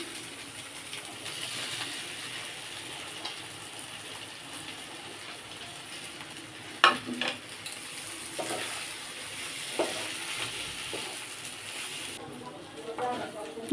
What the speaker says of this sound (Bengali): বাদামটাকেও ভেজে নেব দিয়ে দেবো আলুটা